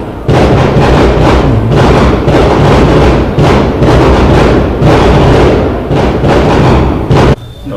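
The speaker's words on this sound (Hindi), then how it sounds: "पटाखा छूट रहा है।" A long string of firecrackers goes off at a wedding, loud rapid cracks and thumps in quick succession for several seconds before stopping.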